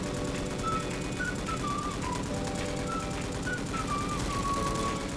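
Steady automatic gunfire in the Roblox shooter Bad Business, a rapid continuous rattle of shots under bright game effects and faint tones, with no pauses.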